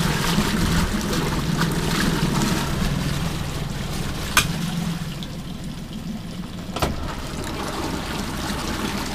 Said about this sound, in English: The engine starts real easy. Four-stroke. Very quiet.